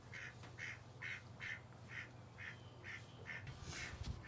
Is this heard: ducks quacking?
yes